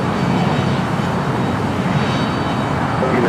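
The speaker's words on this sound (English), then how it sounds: "Second Air Tahiti Nui Dreamliner." An Air Tahiti Nui Boeing 787 Dreamliner arrives at Los Angeles International Airport, making a steady, loud broadband rumble of jet engines that stays unbroken throughout.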